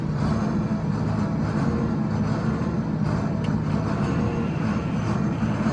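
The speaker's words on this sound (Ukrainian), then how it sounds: "комбайн якось нестабільно працює" A John Deere combine harvester's engine running unevenly from fuel starvation, a loud, continuous low droning rumble with slight surges, heard close without talking.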